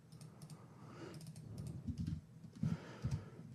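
Keys tapping on a computer keyboard during 3D material editing work, a few quick clicks and bursts of typing, close and fairly quiet with no voice over it.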